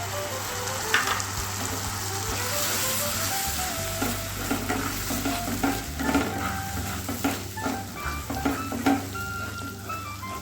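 Ground spice paste stirred into hot oil with bay leaf and cardamom for paneer bharta, a loud, even sizzle with spatula scrapes against the pan and a low background hum.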